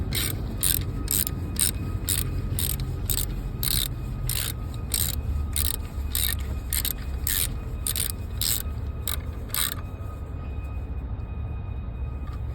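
A ratchet clicks in a fast, steady series while 10mm bolts are tightened on the ECU of a 2007 Saab 9-3 2.0t, with regular bursts that stop near the end over a constant low background hum.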